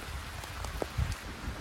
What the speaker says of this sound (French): Il y a un peu de pluie aujourd'hui.